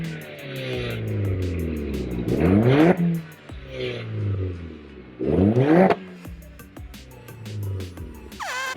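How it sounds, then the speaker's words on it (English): An MK4 VW Golf GTI with a full Milltek decatted exhaust revs hard twice, each blip climbing to a raspy roar before falling back to a burbling idle, close and loud with no talk. "the owner bought this car with a full Miltech decatted exhaust system. So let's give that a listen"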